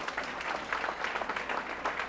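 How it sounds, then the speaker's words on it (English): Audience applause at a women's excellence awards ceremony, steady dense clapping from a crowd throughout, moderately loud with no speech over it. "Give them a hand of applause."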